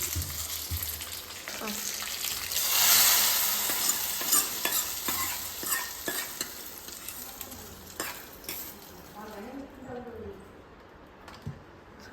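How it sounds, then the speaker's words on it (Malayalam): Mustard seeds, dried chillies and curry leaves sputter and crackle in hot oil in a pan, a steady close sizzle with sharp pops and stirring, easing off toward the end. "എനിക്ക് കടുകും മുളകും ഒക്കെ എടുത്തിട്ടിട്ട് കറിവേപ്പിലൊക്കെ എടുത്തിട്ടുണ്ട് കേട്ടോ ഞാൻ"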